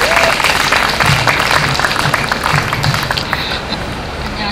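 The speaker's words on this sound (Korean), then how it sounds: "우리 힘차게 박수로 맞았으면 좋겠습니다." A crowd at a gathering against the Jeju naval base claps loudly and continuously, a dense, close roar of applause that holds steady and tapers slightly toward the end.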